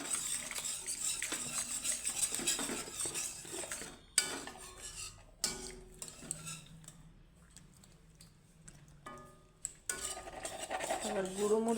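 A spoon scrapes and clinks against a pan while white pasta sauce with pepper powder is stirred, giving repeated metallic knocks and scraping in an uneven rhythm, with faint talk near the end.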